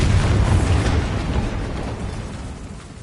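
A Bombarda blasting spell detonates in Hogwarts Legacy, a loud booming explosion with heavy low rumble that hits at once and slowly fades over a few seconds, with no voices.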